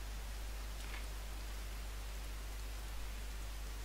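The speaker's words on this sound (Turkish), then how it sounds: "Yağmur yağıyor yani sesi geliyor." Steady rain falls in a forest setting, a constant even hiss of drops with a low rumble beneath, continuous for several seconds with no voices.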